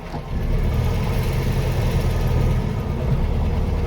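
A Volkswagen Beetle's engine runs at low revs while a learner driver feathers the clutch, a dense steady rumble that holds close and fairly loud throughout without talking.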